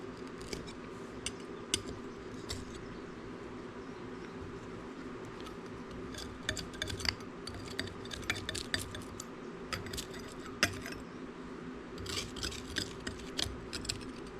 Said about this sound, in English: Scrape the crud off the sides.